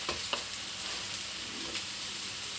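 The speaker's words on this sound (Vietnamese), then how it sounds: "Bởi vậy mình chiên nhiều lắm." Food frying in a pan gives a steady, soft sizzle with a few small pops and crackles, fairly quiet and continuous, with no voices.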